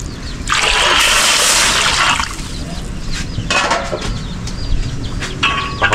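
Chicken broth poured into a cooking pot, a loud steady gush of liquid for about two seconds, followed by quieter splashes and trickles close by.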